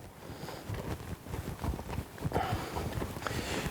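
A ridden horse steps along in steady clip-clop footfalls, the hooves close and moderately loud, keeping a regular walking rhythm under a rider with no talk.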